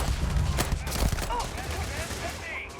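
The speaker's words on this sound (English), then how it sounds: "This is one of the good things about this game is the gunfire." Rapid bursts of gunfire from weapons in the Starfield video game crackle loudly in the foreground, a dense volley of sharp shots that thins out toward the end.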